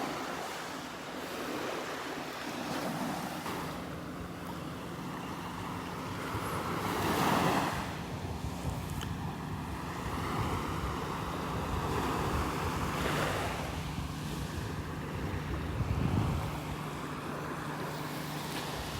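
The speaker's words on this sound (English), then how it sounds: "Couldn't think of a more beautiful place to be in the morning than here at the beach in North Naples." Ocean surf at a morning beach in North Naples at Delnor-Wiggins, a steady wash of breaking waves with gentle swells of louder rushes, mixed with light wind noise on the microphone.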